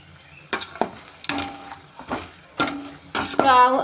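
Vegetables with turmeric being stirred in an already-hot pan off the stove, giving repeated scraping and clattering strokes with a soft sizzle between them, plus a brief ringing clink at the end.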